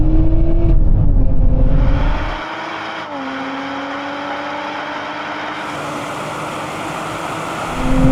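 A Lotus Emira and a Toyota Supra accelerate hard in a drag race, heard as a loud engine roar with rising revs and gear shifts that fades quickly into a steady distant drone.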